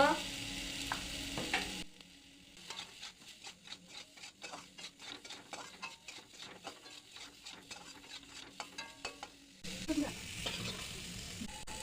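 Potatoes with turmeric and salt fry in a kadai, heard as a sizzle at the start and end, with a middle stretch of rapid rhythmic scraping and stirring against the pan.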